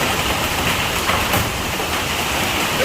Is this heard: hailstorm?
yes